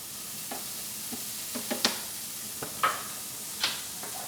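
Diced pancetta being tipped into a dry pan and starting to fry in its own fat, a faint sizzle under scattered clinks and stirring knocks, with no talking.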